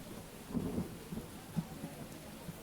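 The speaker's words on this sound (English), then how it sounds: "my background sound also got thunder in it" Thunder rumbles softly under rainfall in a mixed-in background ambience, a faint low roll with a few distant swells and thuds beneath a steady hiss of rain.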